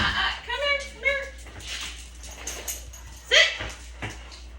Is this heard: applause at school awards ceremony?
no